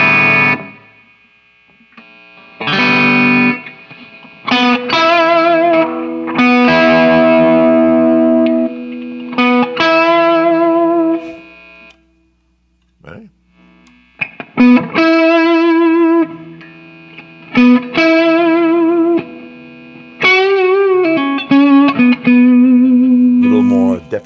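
A Les Paul Signature T electric guitar with coil-tapped 57 pickups plays loud distorted chords and single notes in bursts, ringing and then cutting off, with short gaps of silence between phrases.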